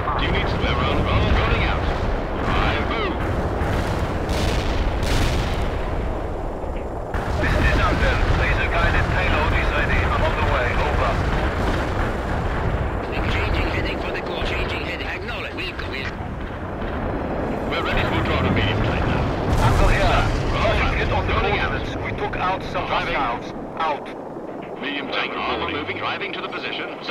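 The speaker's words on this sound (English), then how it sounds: "Heavy artillery firing for effect." Heavy artillery fire in the real-time strategy game World in Conflict during an invasion mission, with continuous booming explosions, rumbling and battle noise under radio chatter and voices throughout.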